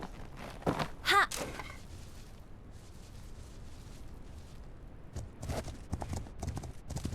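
Horse hooves clip-clop in the video game Legends of Khilmori, a short burst of a few quick hoof hits near the start and another scattered run toward the end, fairly faint against a quiet background.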